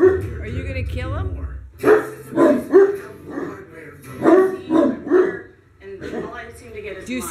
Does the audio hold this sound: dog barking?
yes